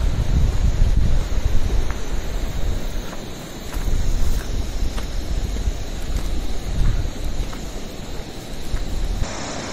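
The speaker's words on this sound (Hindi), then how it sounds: "ये देखिए झरना" Waterfall in the Urgam Valley near Kalpeshwar, a steady broadband rush of falling water that runs without a break, loud and close, with some wind buffeting the microphone.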